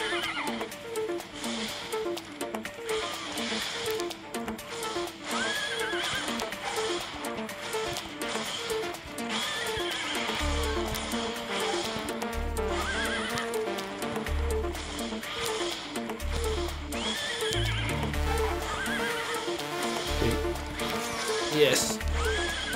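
Horse whinnies from a female horse in the mobile game QQ Speed ring out repeatedly over steady game music, with thudding hoofbeats toward the end and someone talking throughout.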